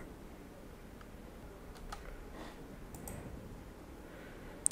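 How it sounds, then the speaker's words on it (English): A mouse click on an add action button while setting up a Facebook business page: one quiet, sharp click near the end, with a few faint ticks before it over low background hiss. "click on add action button"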